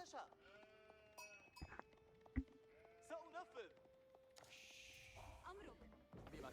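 Sheep bleating in the real-time strategy game Age of Empires 4 while a player gathers them, several short wavering bleats at moderate distance amid light game sounds, with someone talking over them.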